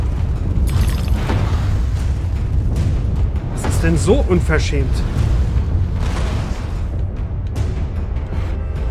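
Cannons fire in the video game Alice: Madness Returns, with deep booming blasts over a constant low rumble and a burst of crackling impacts near the middle, while someone talks over them.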